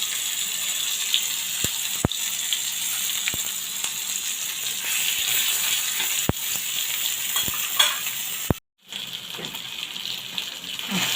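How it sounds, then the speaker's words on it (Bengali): Tilapia fish frying in a little oil in a pan, giving a steady, close sizzle throughout, broken by a few sharp clicks of a utensil and a very short silent gap near the end. "মাছটাকে ভালো ভেজে নিচ্ছি"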